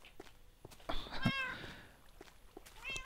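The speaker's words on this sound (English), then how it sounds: "I want to tell this cat to sit." A cat in Minecraft meows twice, a clear drawn-out in-game mewl followed by a shorter one near the end, over quiet clicks and light background tapping.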